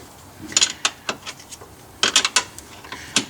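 Several crisp ratchet clicks and metallic ticks come in short bursts while a bolt is backed out of an R107 power steering gearbox, close and fairly quiet.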